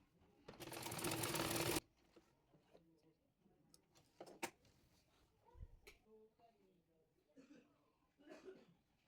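A sewing machine stitches a palazzo salwar in one loud, close, steady burst of rapid whirring lasting about a second, followed by quiet handling clicks and soft speech.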